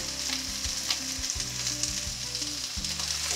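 Potatoes and pointed gourd fry in hot oil with a steady, close sizzle, broken by a few soft bumps and stirring knocks. Low, sustained tones run beneath the frying throughout.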